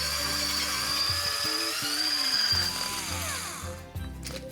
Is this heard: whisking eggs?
yes